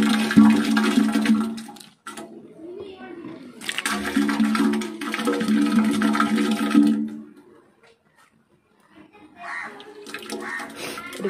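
Water poured by cup into a bathroom floor drain hole, two loud gushing splashes with a pause between, then a quieter trickle near the end, with brief talk in between.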